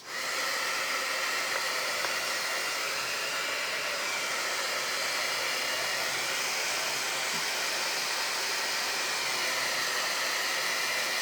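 A hair dryer blows steadily on a handmade craft piece, a constant close whooshing hiss with no pauses or speech.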